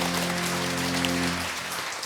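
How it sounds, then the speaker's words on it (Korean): A church congregation claps in welcome during a Sunday worship service, a dense wash of applause with a sustained organ or keyboard chord beneath that fades out partway through. "큰 박수로 환영하겠습니다"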